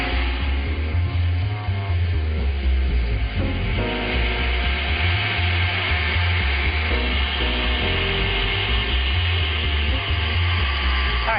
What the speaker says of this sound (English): Okay, so let's beat the egg whites. Takes a couple minutes just to beat them up and get them nice and fluffy.